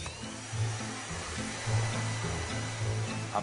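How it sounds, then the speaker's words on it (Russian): A special glass vacuum cleaner runs over the inside of a dirty microwave, giving a steady motor whine that pulses with short rhythmic surges as it is moved across the surface. "Это специальный пылесос для стекла."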